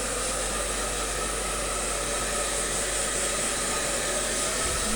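A hair dryer blows hard and continuously at close range, a loud, steady rushing whoosh with no breaks or talk.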